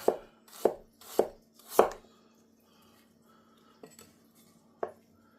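A kitchen knife chops ginger into matchsticks on a board: four quick, crisp chops close up, a pause, then two lighter isolated cuts.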